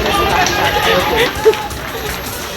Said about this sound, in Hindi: दिल्ली में शराब की दुकानें खुलते ही ठेकों पर भारी भीड़ जमा हो गई।